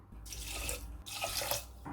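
Water pours steadily into rice in a pressure cooker, a continuous close splashing stream with brief pauses, heard alone with no talking.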